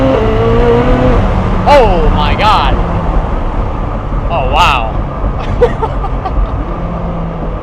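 A Koenigsegg Jesko accelerates hard, its engine droning loud and steady throughout while excited voices exclaim over it and brief whistling shift or turbo sounds rise and fall.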